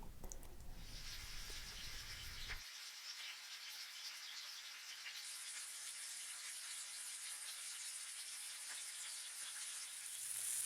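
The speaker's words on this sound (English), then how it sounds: "While the chicken is frying" Chicken frying in a pan: steady frying sizzle with a bright, hissy crackle that fills the clip, continuous and fairly close, with no talking.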